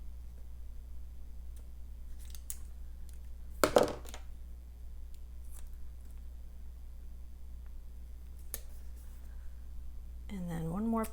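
Scissors trim rose gold floral sticker paper for a Happy Planner layout with one short, crisp snip amid quiet paper rustles, and a voice briefly comes in at the end.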